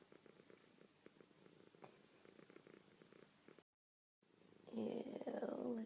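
A cat sleeping on a person's chest purrs in a steady, close, low rumble with a short break, then louder rustling and shifting near the end.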